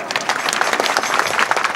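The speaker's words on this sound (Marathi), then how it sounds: "एवढे वरडलं टाळ्या तरी वाजवा" An audience at a devotional kirtan performance claps, a close, brisk patter of many individual hand claps that rises and falls slightly but continues evenly throughout.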